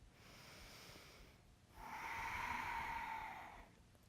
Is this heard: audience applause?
no